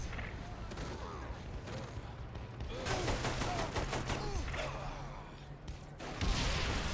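Gunfire in the video game Saints Row 3, dense crackling volleys of shots layered over a steady game background, with a heavier burst toward the end.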